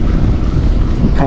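Strong wind buffeting the microphone, a loud low rumble that roars continuously with gusty swells and no voices.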